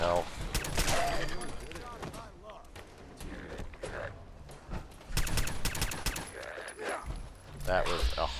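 Repeated gunfire bursts from Fallout 4 combat in downtown Boston, rapid volleys and sharp shots in clusters, loud and close, with someone talking over and between them.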